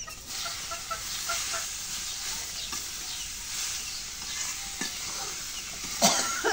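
Leafy greens hiss and sizzle in hot oil with dried red chilli, a dense, steady frying noise stirred now and then, with a sharper clatter near the end.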